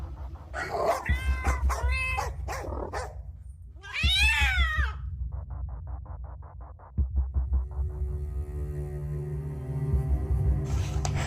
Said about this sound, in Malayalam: അത് പൂച്ച കയറിയതായിരിക്കും